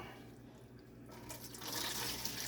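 Whey draining off cheddar cheese curds in a test kitchen, a steady liquid pour that swells louder and splashier toward the end, close by with no talk.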